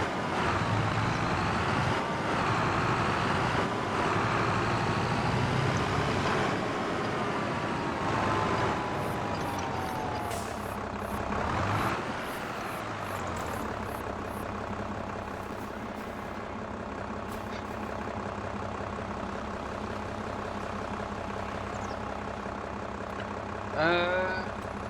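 A farm vehicle in Farming Simulator 25 drives with a steady, loud engine drone and shifting pitch that continues throughout, with a brief clank near the end.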